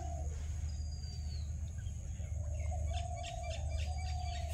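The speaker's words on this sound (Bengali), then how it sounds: "পাখির ডাক, ওই যে গুগু তো ডাক করছে" Morning birdsong in a Bangladeshi village, with faint scattered chirps and calls over a low steady background hum, the birds sounding distant and soft throughout.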